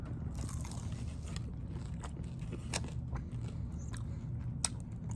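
Crunchy lemon pepper Wingstop chicken wings being bitten and chewed close up, with sharp crisp crackles and snaps scattered over a steady low background rumble.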